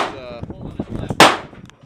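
A single sharp shot from a Smith & Wesson Model T .38 Special revolver built between 1948 and 1952, fired at an outdoor shooting park, sounding one loud crack that rings briefly after some quieter handling noise.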